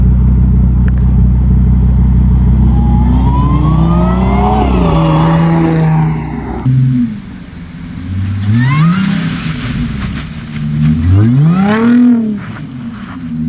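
An Audi S4 engine with an aftermarket intake revs hard in repeated surges, rising and falling in pitch with a loud, throaty intake roar, close by with no talking.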